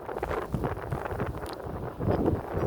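Strong windstorm gusts in Ronkonkoma, New York, roar steadily as broad rushing noise buffeting the microphone, swelling again near the end, with no voices.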